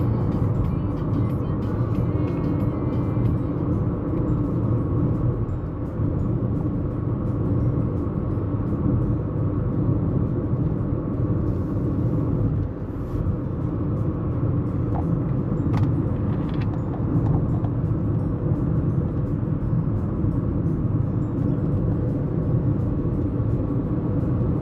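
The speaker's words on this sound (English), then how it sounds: "just a long country drive" A car cruising down a country road: a steady, loud low rumble of engine and road noise that holds constant throughout, heard from inside the vehicle, with no one speaking.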